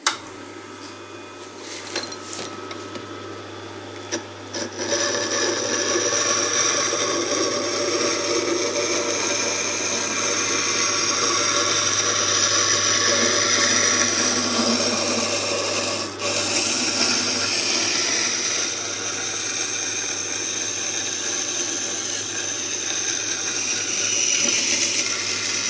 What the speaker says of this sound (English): Now it's just to start the wheel.